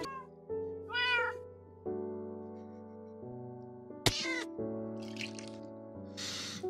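A Minecraft cat gives several distinct meows over steady background music, each short and fairly close, including a sharp cry near the middle.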